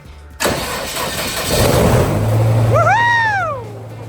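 An engine cranks and catches, settling into a steady mid-pitched idle, loud and close, with a squealing whine rising and falling over it near the end.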